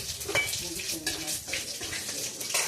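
Curry leaves sizzling in hot oil with popping mustard seeds over a low flame, a moderate crackling fizz with scattered pops and faint stirring, continuous throughout.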